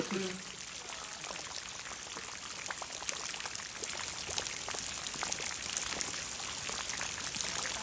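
Steady rain falling outdoors, a dense, even hiss of drops with scattered sharper taps and splashes continuing throughout at moderate level.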